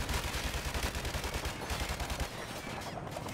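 Rapid automatic gunfire in Call of Duty 4: Modern Warfare, played on Veteran difficulty in the campaign. The bursts are dense, loud and continuous, then ease slightly near the end, with no speech over them.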